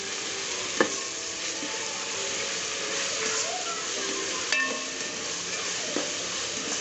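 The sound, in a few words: ginger garlic paste frying in pan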